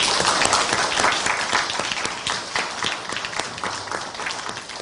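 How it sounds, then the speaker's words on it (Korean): Steady applause from a crowd, many hands clapping at once, loud at first and then tapering slightly toward the end. "우리 격려의 박수"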